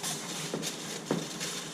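Steady broadband whoosh of an electric fan running throughout, with a couple of brief faint knocks in the background.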